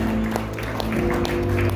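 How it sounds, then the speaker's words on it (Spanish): A church congregation claps in a brief burst during a Spanish-language service, with sustained tones and crowd sound underneath. "Den un aplauso a este."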